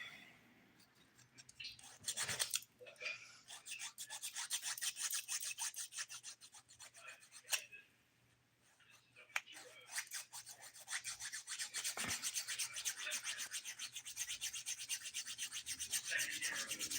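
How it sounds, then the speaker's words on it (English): Close, soft rasping of a nail file shaping fingernails around the cuticle, in steady back-and-forth strokes with a couple of short pauses, quiet and alone. "as I'm filing and just shaping around the cuticle"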